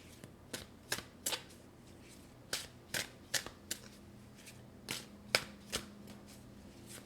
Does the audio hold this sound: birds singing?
no